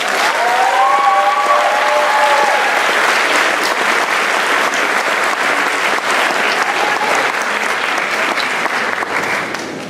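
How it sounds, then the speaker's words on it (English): Sustained applause from an audience at a high school senior awards ceremony, loud and even for about ten seconds with crowd noise and brief cheers early on. "Please applaud these amazing."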